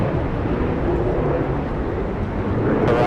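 A jet airliner rotates early and lifts off from runway 24 right at Los Angeles International Airport, a loud, broad, continuous engine roar sustained throughout without talking.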